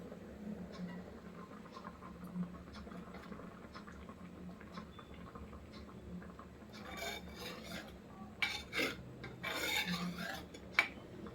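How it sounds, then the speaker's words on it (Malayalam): Onion and ginger crushed by hand for a Malayalam-style fish curry, a steady rasping, grinding scrape running throughout, growing louder and busier with sharper crunching bursts toward the end. "ഈ ഉള്ളി ഇഞ്ചിയും കൂടി ചതച്ചു വിടരാം കേട്ടോ"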